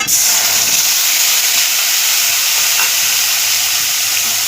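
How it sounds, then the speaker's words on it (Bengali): A ground paste of green chilli, ginger, fennel, cumin, cardamom, cinnamon and clove hits hot oil tempered with dried chilli and neem, bursting into a loud, close, continuous sizzle that holds steady. "ফোড়ন দিয়ে যে মশলাটা আমি পেস্ট করে রেখেছিলাম সেটা দিয়ে দেব"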